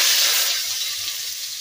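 Salted ash gourd pieces drop into hot mustard oil and sizzle loudly, a steady broadband hiss that slowly eases over under two seconds, with no talking.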